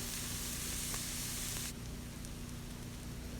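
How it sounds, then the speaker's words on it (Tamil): Chopped onions sizzle in about 50 ml of hot oil in a kadai, a steady broadband hiss that drops to a softer, quieter fry partway through, with no talking. "50 மில்லி ஆயில் ஊற்றி 2 கட் பண்ண ஆனியன் போட்டுக்கலாம். இதை நல்லா வதக்கிடலாம்."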